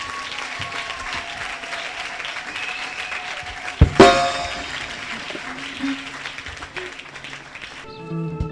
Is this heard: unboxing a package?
no